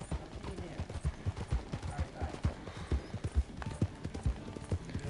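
Horse hooves clip-clop at a steady trot in the open-world game Red Dead Redemption 2, close and fairly loud, with a faint whinny and game ambience underneath and someone talking over the top.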